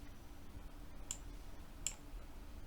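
Two quick, light mouse clicks, spaced under a second apart, at a desk while working in S-FRAME steel structure design software, faint over a quiet room hum.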